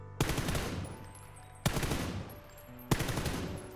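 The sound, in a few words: gunfire at a wall without leaning in PUBG video game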